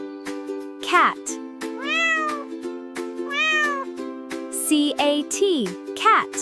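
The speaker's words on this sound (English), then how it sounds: "Cat." Cat meowing several times in a row, clear rising and falling tonal meows close up, each one distinct over a steady hum in the background.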